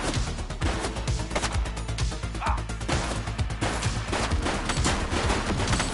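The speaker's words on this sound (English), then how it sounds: "He's shooting!" Rapid gunfire from a shooter rings out in a dense, loud burst, shots overlapping almost without pause for several seconds like a sustained volley.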